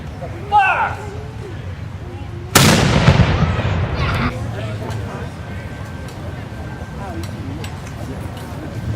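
A cannon fires a July 4 salute in Connecticut, one sharp loud boom rolling off into a fading rumble, after a shouted command and with outdoor crowd noise around it.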